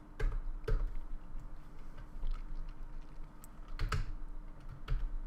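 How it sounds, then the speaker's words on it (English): Keys clack on a computer keyboard in scattered bursts of typing at close range, with short pauses between strokes and no talking. "I'm gonna get you guys again just to type what I type in."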